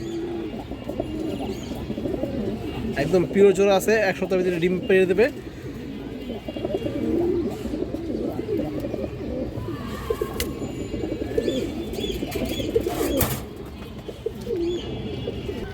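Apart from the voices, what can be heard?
giribaj high flyer pigeons cooing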